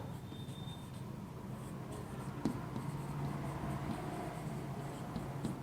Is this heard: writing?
yes